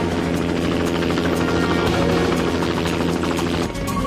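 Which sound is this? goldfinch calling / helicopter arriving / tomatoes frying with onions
helicopter arriving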